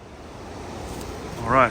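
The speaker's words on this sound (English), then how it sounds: "we made it to Cathedral Falls, just across the river over there. A little narrow stream falling down" Cathedral Falls, a narrow stream falling into the river in Linville Gorge, gives a steady, rushing wash of water from a short way off, with a brief voice near the end.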